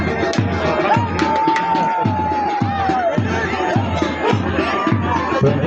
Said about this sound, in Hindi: हाज़रीन की तरफ से भरपूर तालियां हमें मकसूद है इनकी हौसला अफजाई के लिए